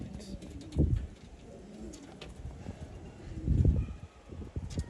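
Pigeons at a pigeon sale in Bangalore give low cooing calls in a couple of louder swells over faint background noise and rustling.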